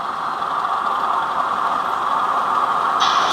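Bachmann Class 31 model railway locomotive sound unit giving off a continuous, even hiss like white noise. It stays steady and fairly loud, with no talking.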